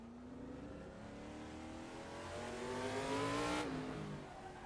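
A McLaren M8C with a 7-liter 427 big-block engine in a racing video game revs up through the gears, its rising harmonic whine building louder and then dropping off abruptly near the end.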